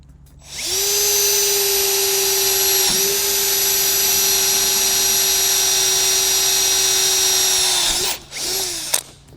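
A cordless power drill fitted with Milwaukee drill bits bores steadily into material for several seconds with a loud, sustained high whine. It briefly dips mid-run, then winds down, followed by a short second burst.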